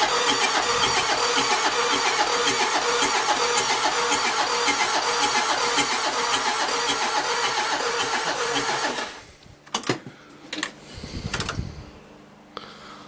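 A Mitsubishi L300 van, running again after an engine replacement, cranks and catches, then holds a loud steady idle for several seconds before it cuts off, leaving faint bumps and handling noises.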